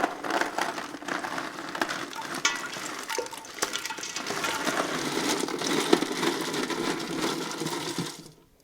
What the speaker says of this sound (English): So let's go ahead and get this ice in here.